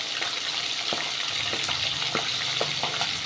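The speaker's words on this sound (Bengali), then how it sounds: "দেখো, মাছটা ভাজা হচ্ছে" Pomfret fish frying in a pan, a steady close hiss of hot oil with scattered sharp pops and crackles running throughout.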